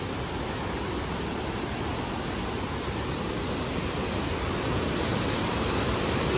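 A waterfall and rushing river at Piracicaba roar in a constant, loud broadband wash that swells slightly toward the end, with no speech over it.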